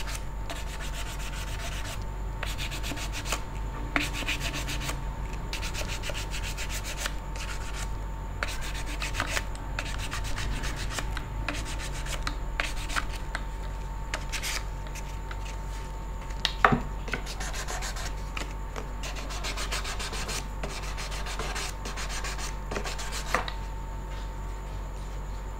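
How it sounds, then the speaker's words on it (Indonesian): Hand sanding a repaired wooden machete sheath with 400-grit sandpaper, steady close rhythmic scratchy rubbing strokes continuing throughout with an occasional knock. "Finishing pakai amplas grade 400 sebelum kita nanti pilok ya."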